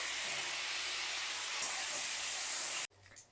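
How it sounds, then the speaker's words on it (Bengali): Eggplant frying in hot oil in a kadai for shukto, a loud, dense, continuous hiss of sizzling held close, then cutting off abruptly near the end to quiet room sound. "বেগুনগুলোকে ঠিক এইভাবে ভেজে নিতে হবে"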